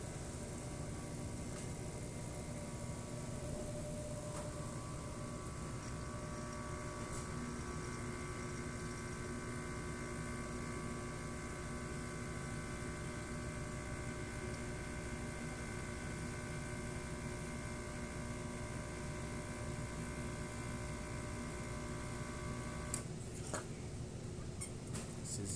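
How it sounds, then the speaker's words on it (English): A Profitec Pro 600 dual boiler espresso machine pulling a shot gives a steady, moderate pump drone with an electrical hum that runs unbroken for about 25 seconds, then ends with a brief clatter. "make espresso shot and see how the machine works."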